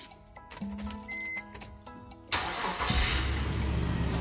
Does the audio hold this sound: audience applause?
no